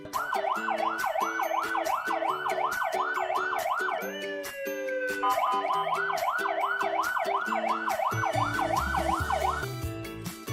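A loud wailing siren cycles rapidly up and down, joined by a steady two-tone horn pattern, continuous and close throughout.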